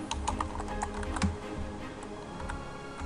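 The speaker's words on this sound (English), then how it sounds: "So I'll just go ahead and type that in." Rapid typing on a computer keyboard while entering C# code in Visual Studio 2010, a dense run of close, crisp key clicks with a few louder strokes and no talking.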